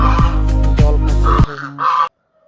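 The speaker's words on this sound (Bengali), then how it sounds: "দুটো রাজহাঁস আছে এখানে" Several loud, brassy goose honks come close together, then two softer, shorter honks trail off into silence.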